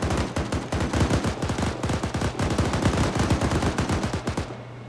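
M240 machine gun in the Arma 3 video game, one long, loud, rapid sustained burst of closely spaced rounds lasting nearly five seconds before cutting off abruptly.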